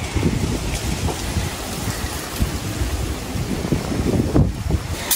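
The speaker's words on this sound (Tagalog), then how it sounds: "Mahangin eh." Strong wind gusts buffet the microphone outdoors in a rural Philippine field, a loud continuous rushing roar with rumbling low pulses and occasional swells, heard alone.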